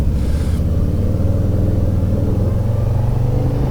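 A Harley-Davidson Low Rider S with a 114 engine rumbles at a steady, loud, deep V-twin throb while being ridden, with a constant low drone and wind noise and no talking.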